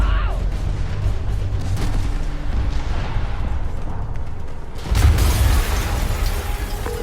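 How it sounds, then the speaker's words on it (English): A heavy explosion erupts in the Spider-Man Remastered video game on PC, a loud rumbling blast that swells again into a deeper boom about two-thirds through, over a dense background of game sound. "an explosion just..."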